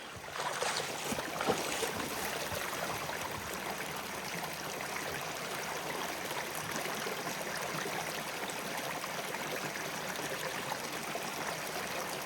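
Water pours steadily through a gold sluice box outdoors, a constant close rushing and trickling flow with no pauses, loud and even throughout.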